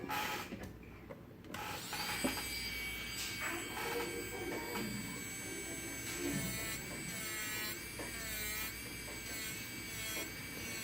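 A small electric nail drill whines steadily while removing polish over nail enhancements, its high motor pitch shifting slightly as it works, with a few light taps near the start.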